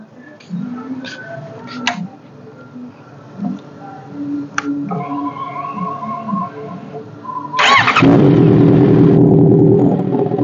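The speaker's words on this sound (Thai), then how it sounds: "เดี๋ยวเราไปฟังเสียงท่อกัน" A 2019 Honda CBR650R sport motorcycle cranks and fires up near the end, its engine catching abruptly into a loud, steady idle after quieter ticking and handling noises.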